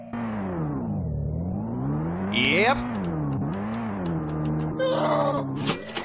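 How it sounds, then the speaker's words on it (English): A car engine revs and strains in a mobile video game as the car climbs a mountain, its pitch sweeping up and down in a steady, loud drone, with a brief voice over it. "Watch as the majestic car tries to climb the mountain."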